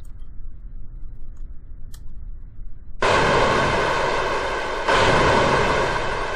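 Rockets launching from a helicopter in Kerbal Space Program: after a quiet stretch with faint ticking, a loud roaring whoosh starts abruptly and holds, with a second burst surging in about two seconds later.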